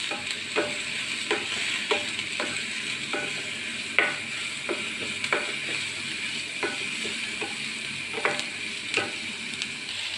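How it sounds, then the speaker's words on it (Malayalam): Onion and curry leaves stirred in a hot pan: a steady close sizzle of frying, punctuated by about a dozen light spatula scrapes and taps spaced irregularly across the stretch, with no talking. "ഒന്ന് മിക്സ് ചെയ്ത് ഇളക്കി കൊടുക്കാം."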